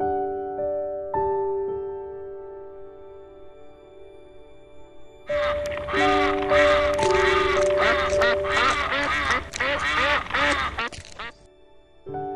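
A flock of ducks in a Vietnamese animated folk-tale cartoon quacks in a loud, dense burst for several seconds, following a stretch of soft background music with a few faint voices.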